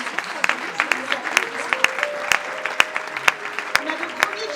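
An audience at a closing ceremony applauds, dense sustained clapping from a crowd with sharper individual claps standing out, loud and continuous.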